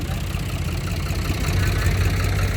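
A vehicle engine idles with a steady, low, continuous rumble, close and fairly loud throughout, with no talking over it.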